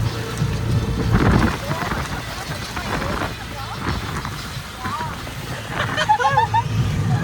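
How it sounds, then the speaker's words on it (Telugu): Heavy rain pours down steadily in a sudden downpour on a family trip to Srisailam, with rumbling thunder and a few voices murmuring under the downpour. "మళ్ళీ స్టార్ట్ అయిపోయింది ఫుల్ వర్షం"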